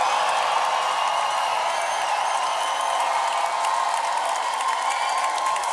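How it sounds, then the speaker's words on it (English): A crowd at a Summer Dance Forever 2023 locking battle roars for dancer Kiyamu, a loud, dense and sustained wall of cheering and screaming that holds steady throughout, with no single voice standing out. "if the crowd feels like Kiyamu has won, you make some noise at the count of three"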